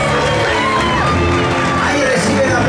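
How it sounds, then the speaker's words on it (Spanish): A crowd at a summer awards ceremony cheers and whoops loudly for a champion stepping up to receive a prize, a dense, continuous roar of shouts and yells with voices rising through it. "Ahí recibe el aplauso de toda la torcida del Rifi."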